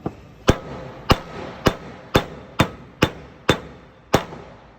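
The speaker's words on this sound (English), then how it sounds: "you're going to tap it in gently, so gently, make sure it does not get crooked" Fox eyelet roller bearing being gently tapped into place, eight evenly spaced sharp metallic knocks about half a second apart, close and clear.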